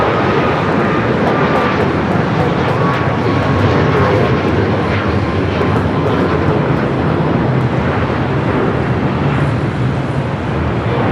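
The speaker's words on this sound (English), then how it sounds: "This flight coming up from JFK on the 767-300ER" A Boeing 767-300ER airliner at LAX airport, arriving on a flight from JFK, gives a loud, steady jet roar that holds unbroken for the full length with no talking.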